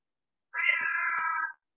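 A cat lets out a single sustained, clear meow of about a second, close by, with faint soft clicks underneath and silence on either side.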